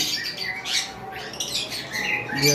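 Cockatiels making mating calls on a bird farm, a run of harsh, bright squawks in quick irregular bursts, close and fairly loud.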